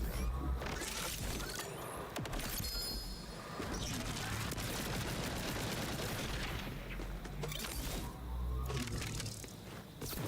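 Rapid video game gunfire crackles in dense, continuous bursts, loud and close, mixed with crashes and booms under game sound.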